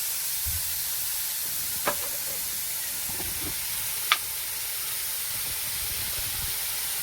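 Turmeric and spices frying in a pan give a soft, steady sizzle and hiss, with a couple of faint clinks and stirring scrapes.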